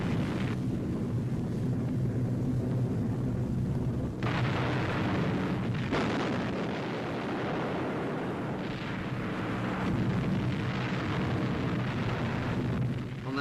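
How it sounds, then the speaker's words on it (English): Bombing of petrol dumps at Conde-sur-Vire by RAF Mitchell and Boston bombers, 1944: a sustained, dense roar of blast and rumble fills the clip with deep low-end power, surging again at several points, with no voices. "a large explosion was observed in the target area"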